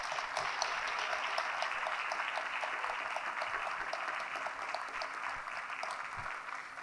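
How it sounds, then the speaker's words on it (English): A hall full of family members applauds seniors at the Walled Lake Western senior honors and department awards ceremony, a dense, steady wash of clapping that holds evenly from start to finish with no voices over it. "So let's give them one more round of applause,"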